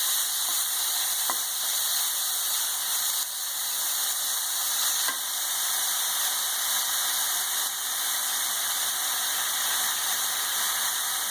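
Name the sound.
chopped onion frying and being sautéed in a pan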